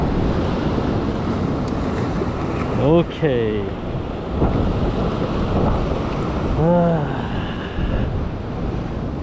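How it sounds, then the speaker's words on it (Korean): Large ocean waves surge and break against a rocky shoreline during rock fishing, a steady rushing roar with heavy wind noise on the microphone and a few short voiced calls over it. "어우 지금 큰 파도 온다."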